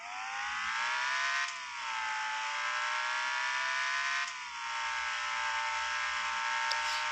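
A car engine whirs steadily at high revs while driving, with a rising tone and two brief dips as if shifting gears, loud and close throughout.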